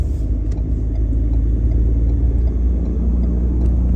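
A car cruising on a long road trip of more than 500 km, giving a loud, steady low engine-and-road rumble from inside the cabin, unbroken and even throughout, without speech.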